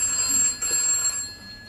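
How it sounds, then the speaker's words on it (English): A telephone rings steadily at a moderate level in an indoor scene from a British comedy, its bell tone held through the short moment with no talk over it. "It's the phone."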